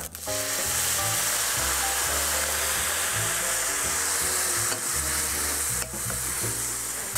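Minced meat browning in a hot pan gives a loud, continuous sizzle with steady stirring and scraping throughout, close and without speech.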